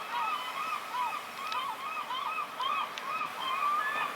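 A flock of birds honks repeatedly from a construction crane in the city of Victoria, British Columbia, with steady, overlapping calls that continue throughout at moderate distance.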